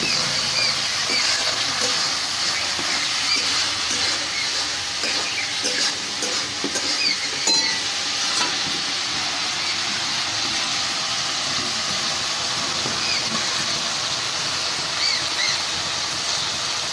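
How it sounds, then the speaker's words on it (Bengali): Masala for a brickett fish curry sizzles steadily in hot oil as it is stir-fried, a continuous crackling hiss with occasional scraping stirs, close and fairly loud throughout. "এবার সব কিছু দিয়ে বেশ কিছুক্ষণ ধরে কষে নেব।"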